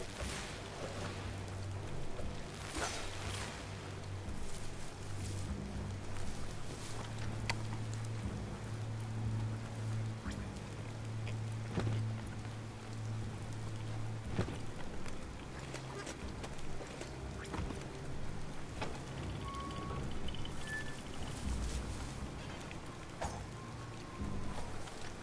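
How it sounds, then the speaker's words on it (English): Steady rain falling in the video game Biomutant, a continuous hiss of drops with a low droning tone and occasional knocks beneath, even and sustained with no talking. "The rain's making it slick out."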